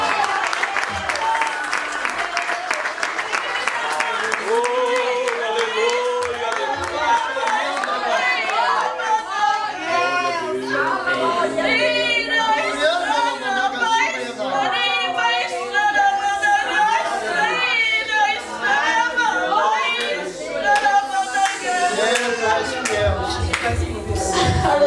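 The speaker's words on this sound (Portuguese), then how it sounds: "E as palmas louvam o Senhor Jesus." Congregation in a Pentecostal church clapping in praise, a dense, continuous wash of applause mixed with crowd chatter and voices for the whole stretch.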